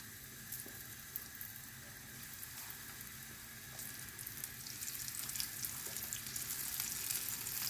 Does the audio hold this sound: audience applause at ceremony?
no